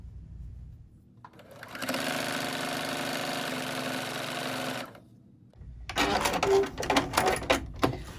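A home sewing machine with a regular foot stitches a quilt binding in one steady whirring run of several seconds, then stops, followed by brief clattering handling noises close by.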